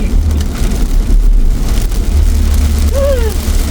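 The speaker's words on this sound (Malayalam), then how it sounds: "ആഹാ, അപ്പൊ നല്ല മഴ." Heavy rain drums steadily on a car being driven at night on an off-road route to the Kalba mountains in Sharjah, with a loud low road rumble underneath and a brief squeal near the end.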